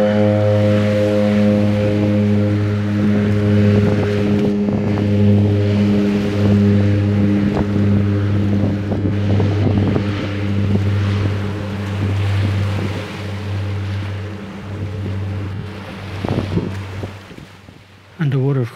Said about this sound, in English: I love it when they rev up the engines and take off.